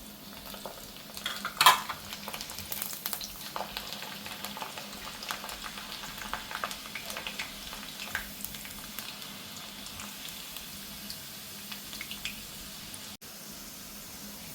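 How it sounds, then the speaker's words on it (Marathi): Garlic fries in oil for a crisp roasted-poha chiwda, a low steady sizzle with light stirring and one brief louder clatter early on, fairly quiet and without talk. "लसूणला पण एक आपल्याला थोडासा लालसर कलर गुलाबी कलर येईपर्यंत तळून घ्यायचा आहे"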